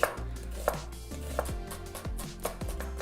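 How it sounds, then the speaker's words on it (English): A knife slices through an onion on a cutting board in steady rhythmic thuds, about five or six close, crisp chops spaced roughly half a second apart, with no talking. "An onion, just chop it in half, and then slice it into just slices."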